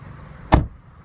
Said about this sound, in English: you can literally open the door,